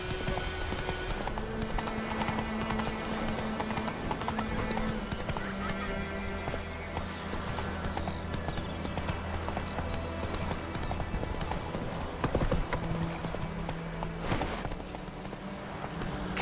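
Roach, a horse in The Witcher 3, gallops with steady, rapid hoof clip-clops running throughout, accompanied by a few neighs and snorts over a dense background of game music and ambience.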